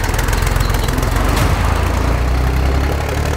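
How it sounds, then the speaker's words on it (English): A tractor drives fast in Croatia, its engine giving a loud, steady, close roar with heavy low rumble for the whole stretch and no voices over it. "That is a fast tractor."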